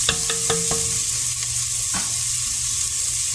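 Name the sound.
vegetables searing in oil in a pot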